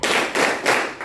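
An audience claps together in a chant rhythm at a school leadership training session, three loud close bursts of many hands, each lasting about a third of a second.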